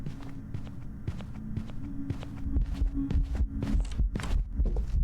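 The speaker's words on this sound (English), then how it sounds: "Let's listen to the footsteps here." Ghost footsteps in a ghost-hunting game, heavy thudding steps that grow louder and closer partway through over a low steady hum, with no talk.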